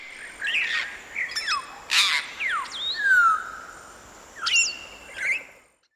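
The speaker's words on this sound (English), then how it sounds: "African grey parrot." African grey parrot calling with a series of whistles, squawks and rising and falling tonal notes, fairly close and clear against a quiet background, no voices.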